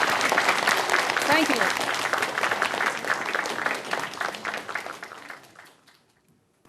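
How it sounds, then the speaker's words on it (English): Audience applause after a song and dance performance at a large event, loud sustained clapping with a brief spoken thanks early on, then tapering off into quiet. "Let's give them another round of applause."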